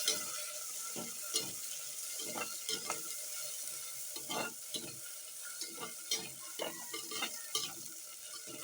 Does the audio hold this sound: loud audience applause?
no